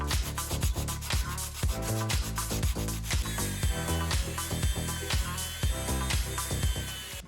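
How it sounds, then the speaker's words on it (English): Sandpaper rubbed back and forth over small metal lock pieces from a Game Boy display, a loud, close, rhythmic scraping in quick repeated strokes with no voices. "I'm going to use sandpaper on it just a little bit and we'll see if we can start getting these metal pieces cleaned up"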